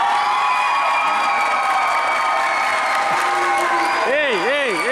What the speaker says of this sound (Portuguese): Essa é a torcida.